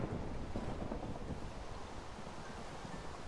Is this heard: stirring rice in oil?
no